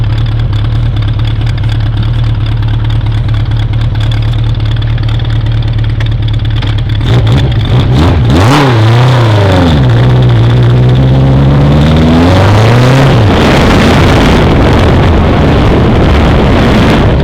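A 1982 Honda CB900F SuperSport motorcycle engine idles loudly and close, then is blipped through two rising and falling revs before settling again, with no talking.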